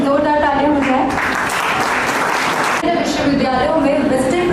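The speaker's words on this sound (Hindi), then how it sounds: "इसलिए सर के लिए जोरदार तालियां हो जाए" Applause rises from the audience at a national moot court event at a law college, a loud burst of clapping lasting about two seconds between stretches of amplified speech.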